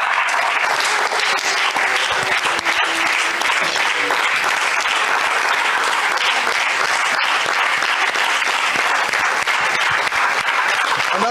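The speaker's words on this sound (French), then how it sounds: "Est-ce que tu peux acclamer pour le Seigneur?" A church congregation applauds and cheers for the Lord during a Sunday service, a dense, steady wash of clapping and crowd voices that fills the room without a break.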